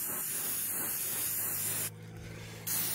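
Krylon red pepper spray paint hisses steadily from a can onto tiles in a quick coat, a close, continuous spray broken by a short pause before resuming.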